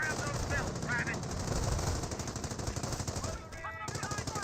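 Sustained bursts of .30 cal machine gun fire in the Company of Heroes strategy game, a loud rapid rattle running almost continuously, with other battle noise and brief in-game voice calls layered over it.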